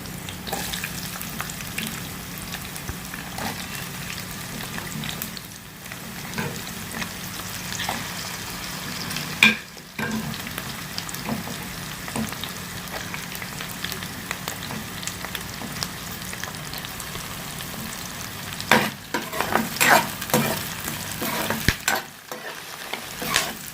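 Onions frying and sizzling steadily in a pan of oil for stingray fish gravy, with a spatula stirring and scraping through the hiss at close range and a few louder clatters near the end.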